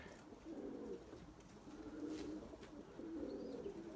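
Domestic pigeons at a rooftop loft give soft, low repeated coos, fairly close and continuous over faint background rustling and a few distant sounds.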